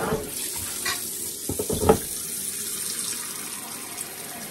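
A kitchen tap runs cold water into a sink, a steady hissing stream with a few splashing clatters as things are moved under it.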